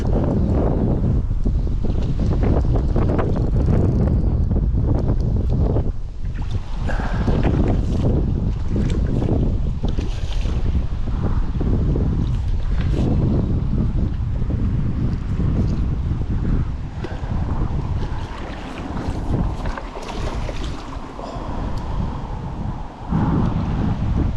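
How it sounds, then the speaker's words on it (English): Strong gusty wind buffets the microphone on a bank of the River Severn near Shrewsbury, a loud rushing roar that surges and eases in waves for the whole stretch, with no voices. "I'm battling the wind."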